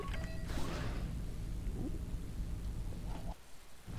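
A fancy mechanical sliding door opens at Docking Bay 26B in Knights of the Old Republic, giving a sustained hissing, creaking mechanical rush that cuts off near the end, with steady low ambience.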